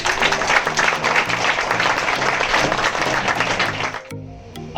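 Audience in a classroom applauding steadily, dense hand clapping filling the space for about four seconds before it abruptly thins out and stops.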